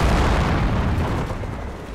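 A heavy explosion blows up an 88 gun in Company of Heroes during the Omaha Beach landing, a loud, deep close boom that rumbles and slowly fades.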